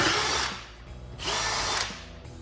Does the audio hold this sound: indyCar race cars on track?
no